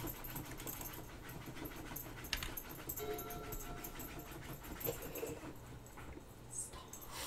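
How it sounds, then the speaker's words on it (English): A dog on a bed digs into the mattress, producing a steady, rustling scrape that runs for the whole stretch, with soft panting and an occasional sharper scuff, close by. "That is my dog on the bed digging into the mattress for whatever reason."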